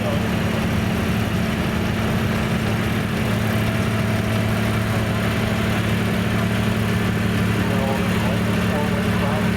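A 1951 Ferguson TO20 tractor fitted with a TO30 engine idles and rumbles steadily through a tractor show parade, a constant low engine drone with crowd noise and talk over it.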